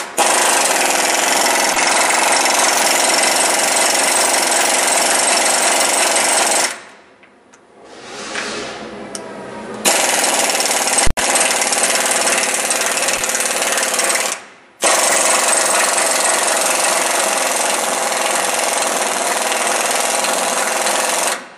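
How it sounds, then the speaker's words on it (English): A pneumatic air impact wrench hammers loudly at close range in long continuous bursts, breaking off briefly twice, with a short quieter gap of clanks between runs. "the guy here operating the air pressure wrench is our leader, Steve Boonstra."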